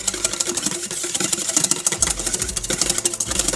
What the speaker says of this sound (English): take your egg yolks and you start whisking